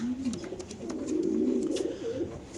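Pigeons, a Pakistani breed kept in a loft, coo softly and continuously at close range, their low rolling calls running throughout.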